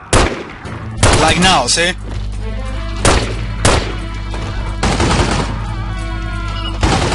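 Gunfire in The Godfather PC game, with loud close bursts and single shots that crack repeatedly throughout. Someone speaks briefly over the shooting.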